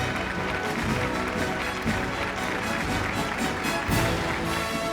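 Continuous hall applause at a sustainability awards event as a steel company is honoured, many hands clapping in a dense, steady roar with a slight swell near the end.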